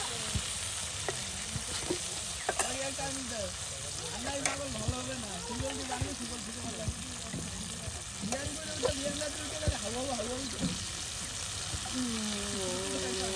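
Coriander leaves, garam masala, onion and garlic fry in a pan, a steady close sizzle with scraping stirs, while a person talks throughout.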